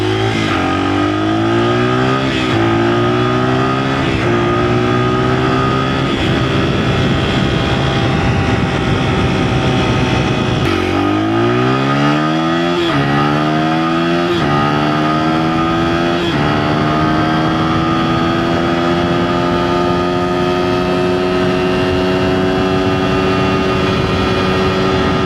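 A Honda trail motorbike engine revs hard at full throttle through its gears, pitch climbing and dropping with each shift, loud and close the whole way.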